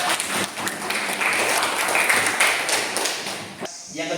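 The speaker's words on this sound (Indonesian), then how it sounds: "Tepuk tangan dulu" Applause from a classroom of students, a burst of dense, fairly close clapping that runs for a few seconds before cutting off.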